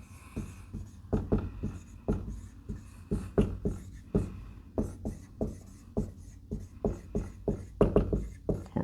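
Pen or marker writing notes on a surface, a brisk series of short scratchy strokes and taps in an uneven rhythm, close and fairly quiet, with no speech over it.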